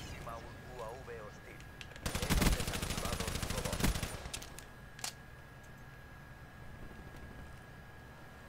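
Suppressed gunfire in the shooter Black Ops 3, a burst of rapid muffled shots lasting about two seconds amid quiet game ambience, followed by a single sharper report.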